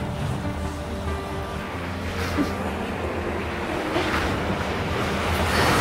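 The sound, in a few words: sea waves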